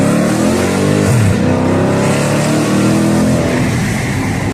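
A 2020 Dodge Challenger Shaker pulls hard up to 60 mph, its V8 engine roaring loud and close, with the pitch climbing steadily through the gears.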